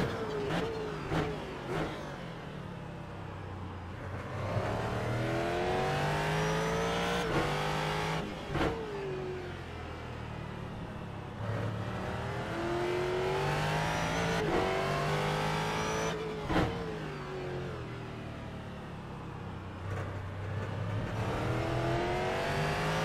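A Ford GT3 race car engine in the iRacing sim at COTA revs hard through repeated upshifts and downshifts, rising and falling continuously with brief gear-change cuts over a sustained loud drone.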